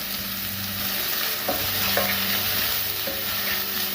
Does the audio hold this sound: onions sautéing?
yes